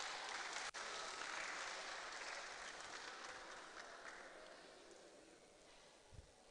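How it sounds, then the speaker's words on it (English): Audience applause fills a mental health symposium hall in a dense, sustained wash of clapping that slowly fades toward the end. "A round of applause for her."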